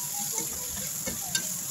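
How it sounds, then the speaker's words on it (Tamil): Steady sizzling of vegetables with turmeric frying in a pan for rava kichadi, with a few soft clicks of stirring, close and continuous, no talking. "போட்டு நல்லா வதக்கிக்கணும்."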